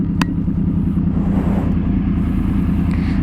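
A 2014 Yamaha R1 motorcycle engine rumbles loudly and steadily up close, idling with a deep throbbing drone and no clear revving.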